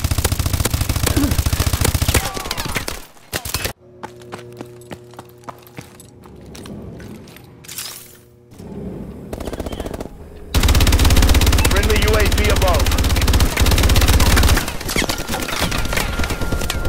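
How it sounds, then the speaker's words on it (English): Remote turret machine gun in the video game Call of Duty: Advanced Warfare fires loud sustained bursts with a brief lull midway, then resumes heavy continuous fire near the close. "Standing by. Remote turret ready."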